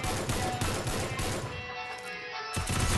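Gunfire in the Free Fire battle royale game, a rapid close volley of automatic shots that pauses briefly, then a second burst starting up.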